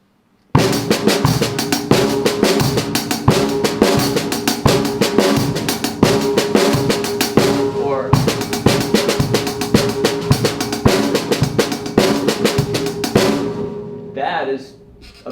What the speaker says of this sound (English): That is a paradiddle on a drum set, and it sounds super rad.